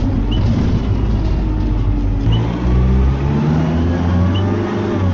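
A bus engine in a Roblox bus simulator revs and accelerates steadily, heading toward the Canterbury seafront, with a loud, continuous drone and a shift in pitch partway through.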